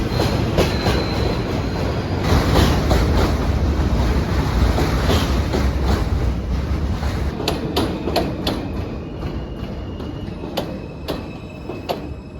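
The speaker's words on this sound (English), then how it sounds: "when a train runs over it, the steel shakes so much that it amplifies the noise" A New York City elevated train runs over a steel structure with a loud, continuous roar and rumble. Rapid metallic clattering and rhythmic wheel clicks repeat throughout, close and sustained, with no voices.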